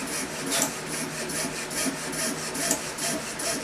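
A hand saw cuts a guitar nut in a steady back-and-forth rhythm, each close, raspy stroke even and regular, with no voices over it.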